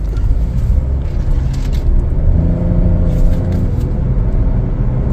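2024 Chevrolet Trax accelerating on a main road, heard from inside as a steady, loud engine and road rumble with a slowly rising drone throughout.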